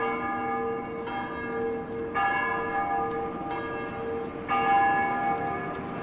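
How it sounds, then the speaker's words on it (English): Church bells toll in 1885 Montreal for the smallpox plague dead. The strikes are slow, resonant and evenly spaced, each ringing tone hanging and overlapping the next, moderately distant, with no voices. "the bells toll on for those taken by the plague"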